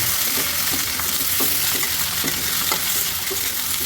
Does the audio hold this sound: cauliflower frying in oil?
yes